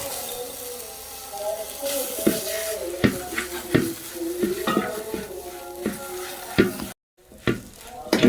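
Tomato added to spiced masala with Kashmiri chilli powder frying in a pan, loud close sizzling under repeated spoon clanks and stirring scrapes against the pan, with a brief gap near the end.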